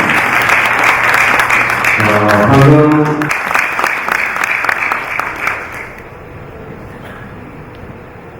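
Crowd at a Korean political party founding convention applauds, a loud dense clapping that builds under music and voices, then fades out near the end.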